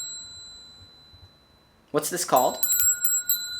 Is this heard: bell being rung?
yes